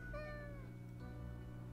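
A video game cat gives one clear, rising-then-falling meow over a steady game music drone, fairly close and alone without talk.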